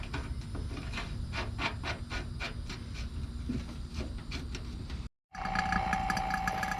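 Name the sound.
vacuum pump evacuating a mini split AC system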